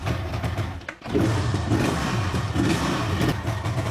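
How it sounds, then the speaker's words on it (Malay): A motorcycle engine catches after a brief starting crank and a short dip, then runs and revs steadily nearby at mid pitch, loud and continuous with no talking. "Ni kita nak try start dulu motor ni."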